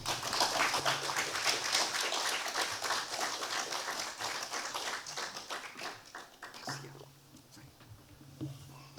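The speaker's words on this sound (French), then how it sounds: "Vous pouvez l'applaudir." An audience at a book festival talk applauds, clapping loud and dense at first, then thinning out into scattered individual claps near the end.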